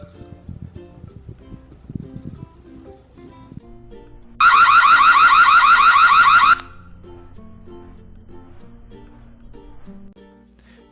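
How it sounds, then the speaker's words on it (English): A Reolink Argus outdoor camera's siren blares for about two seconds as a loud, rapidly warbling electronic alarm, cutting off abruptly, with quiet background noise before and after. "The alarm is not continuous and is only about 3 seconds long"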